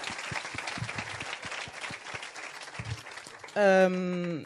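A church congregation claps at a worship service in rhythmic, fairly faint applause under ongoing talk, ending with a sustained sung or shouted tone.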